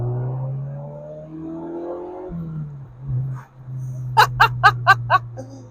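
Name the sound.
car engine while driving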